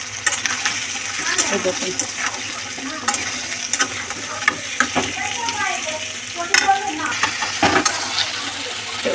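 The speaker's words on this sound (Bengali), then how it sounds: "আলুটা ভালো করে ভেজে নেবো, এই তেলের মধ্যে লাল লাল করে ভেজে নেবো।" Potatoes frying in oil with black cumin for aloo posto, a loud close sizzle broken by frequent clattering stirs of a spatula against the pan, with a brief spoken remark over it.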